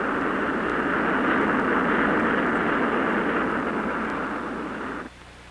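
An F-105 Thunderchief jet roars past as a steady, loud broadband rush that holds for several seconds, then drops away abruptly to a faint hum.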